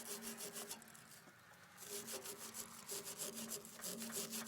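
Rhythmic scraping of corrosion off an aluminum Zenith carburetor from a Farmall Super C tractor: quick, repeated gritty rasping strokes close by, pausing briefly before resuming at a steady pace.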